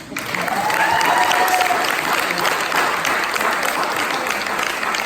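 Sustained audience applause at a parish independence awards ceremony in Barbados, a loud, even roar of clapping from a crowd, with a faint whistle-like tone early on and some voices mixed in.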